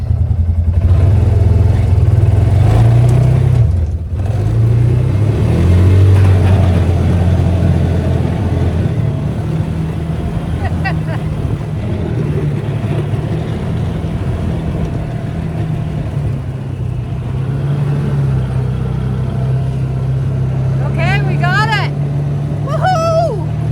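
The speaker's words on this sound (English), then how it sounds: "Putting it in low. We are in four-wheel drive." A four-wheel-drive vehicle in low gear revs its engine on ice at a homestead, a loud steady drone that holds for over twenty seconds with brief rises, and a voice talks over it.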